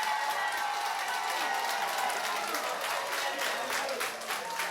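Union members at a sixth congress applaud and acclaim, steady dense clapping from a large crowd filling the room throughout, with some voices mixed into the ovation.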